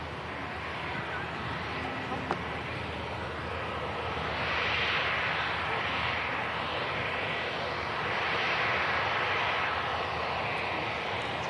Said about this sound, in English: Second of those EasyJet 320s just about to line up, followed by this beautiful Singapore A380